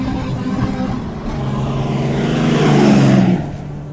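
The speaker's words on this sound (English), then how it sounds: "there is the deafening roar of engines and the crunch of wheels on cracked earth" Several vehicles roar across cracked, rugged earth, a loud continuous engine drone that swells toward a peak near the end before easing, close and without voices.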